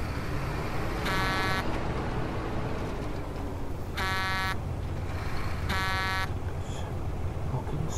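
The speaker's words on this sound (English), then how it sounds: "Stop beeping the horn" A truck horn in the video game SnowRunner sounds three separate half-second honks, evenly spaced, over a constant low engine rumble.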